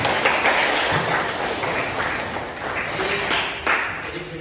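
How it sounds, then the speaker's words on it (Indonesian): Audience applause at a school internship presentation on vaccination and immunisation, a dense steady patter of clapping filling the room, fairly loud and continuous with a few sharper claps standing out. "Beri tepuk tangan lagi."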